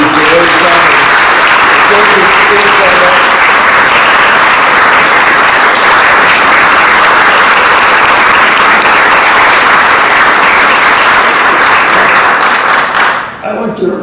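Loud, sustained applause from a large audience at an honor session tribute, dense continuous clapping for about thirteen seconds before fading quickly at the end.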